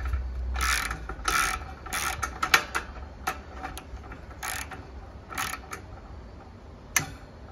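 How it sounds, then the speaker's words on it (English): A ratchet with a 13 mm deep socket tightens a bolt on a patio heater, giving bursts of close, crisp clicking pawl strokes in an irregular rhythm with short pauses, no talk. "Get the ratchet and tighten that up."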